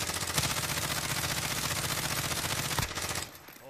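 Heavy automatic gunfire in Call of Duty Warzone 2, a loud, sustained burst of rapid shots lasting about three seconds before cutting off abruptly into quieter game ambience.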